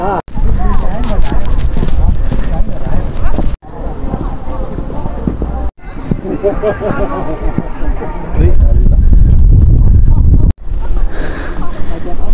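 Strong desert wind at Xiangshawan dune bay in China roars and buffets the microphone in loud, continuous gusts, with people talking throughout over it.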